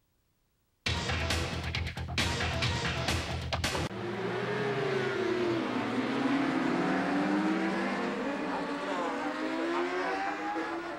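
TT Formula 1 race motorcycles pull away on the formation lap at SUGO in 1990, a loud burst of revving from many engines followed by a sustained, rising and falling roar as the pack gets underway.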